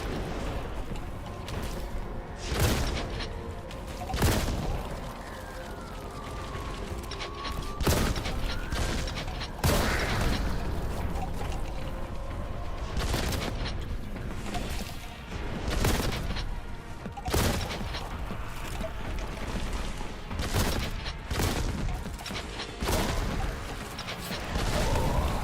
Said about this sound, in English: It's just a shotgun